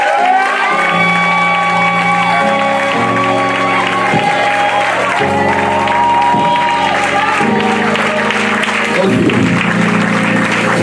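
A French-speaking church congregation at a worship service cheers and applauds, a loud, continuous wash of clapping and shouts over sustained keyboard chords that keep going for the whole stretch.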